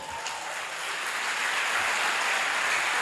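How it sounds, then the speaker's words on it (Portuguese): A church congregation claps together in a continuous, even patter of applause that builds slightly and holds steady throughout. "Aplaude o Senhor."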